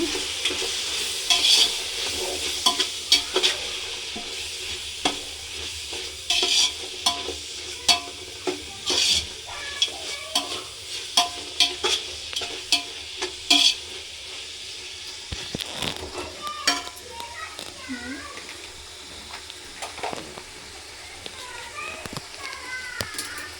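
Coriander powder being stirred into frying biryani masala, with a spoon scraping and clattering in the pan over a soft sizzle; children's voices and talk are heard in the background.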